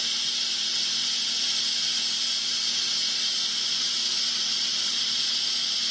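Steady, unbroken hiss of steam escaping from a pressure cooker vent while it depressurizes after cooking a burrito bowl, loud and close, continuing without pause and with no voices.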